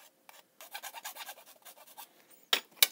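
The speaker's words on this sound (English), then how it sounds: "I'm gonna run a file over this part" A hand file rasps over a small plastic model part in a run of quick, close, quiet back-and-forth strokes, ending with two sharper scrapes.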